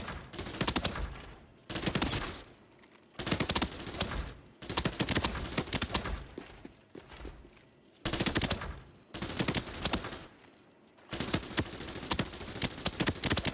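Bursts of AEK rifle fire in Arena Breakout Infinite, several long loud volleys of rapid automatic shots separated by short pauses, close and sharp.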